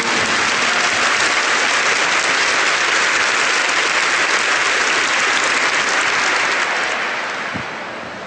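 A church congregation claps for the Lord in a loud, steady, dense burst of applause that holds for several seconds before tapering slightly at the end.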